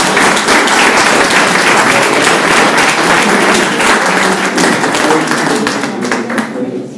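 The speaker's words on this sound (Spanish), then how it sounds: "Vamos a dar un aplauso a Rosa también." Audience at a parish anniversary round table applauding, dense clapping from a roomful of people that is loud and sustained, then thins out and fades near the end.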